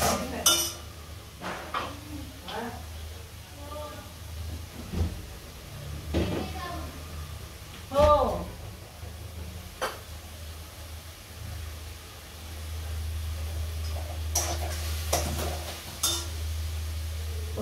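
Rice greens (tandulja bhaji) stirred in a pan, with repeated metallic scrapes and clinks of a spoon against the pan between quiet stretches, then a steady low sizzle toward the end.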